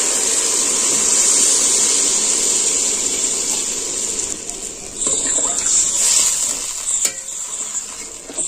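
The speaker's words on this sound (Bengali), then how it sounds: "এবার আমি জল ঢেলে দিচ্ছি।" Water is poured into a hot pan of sautéed cauliflower and mackerel curry base, a steady loud rushing hiss with sizzling and a few clinks of utensils toward the end.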